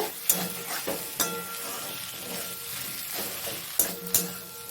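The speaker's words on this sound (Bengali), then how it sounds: "ভালো করে মিশিয়ে আবার নেড়ে নেব।" A banana flower curry with cumin and garam masala powder is stirred in a frying pan: soft sizzling under scraping strokes and several sharp metallic clinks, close by, with no talking.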